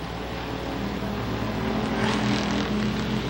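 Pure stock race cars roar around a dirt oval during a heat race, a steady dense engine drone that swells slightly as cars pass close, with no talk over it.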